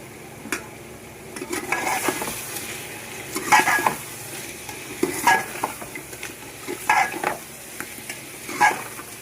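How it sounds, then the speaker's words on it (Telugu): Spoon stirring a spice mixture into chicken curry in a hot pan, with repeated scraping strokes over a steady sizzle and occasional metallic clinks, close and fairly loud, no talk. "కల్లుపు బాగా కలపెట్టేసుకుందాం"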